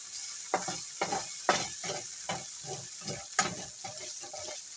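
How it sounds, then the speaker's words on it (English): Beef for chow mein being stirred and scraped around a frying pan while it cooks: repeated utensil strokes over a steady sizzle, close and moderately loud, with no talking. "just continuously move it around until it's cooked"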